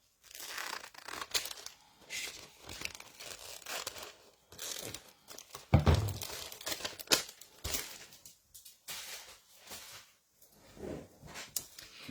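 Scissors snip and crinkle a small piece of thin tissue-like paper up close, in irregular bursts of crisp rustling and cutting strokes with short pauses and no talking.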